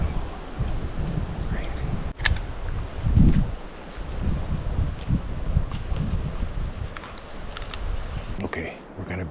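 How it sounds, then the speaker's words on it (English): Strong snowstorm wind, gusting up to about 80 km/h, roars and buffets the microphone steadily throughout, with a brief sharp knock early on. Someone speaks a few words over the noise. "It's up to 80-kilometer-an-hour winds."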